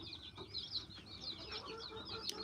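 Rhode Island Red chickens cluck and chatter faintly and continuously at a distance over a quiet, noisy backdrop; no talking.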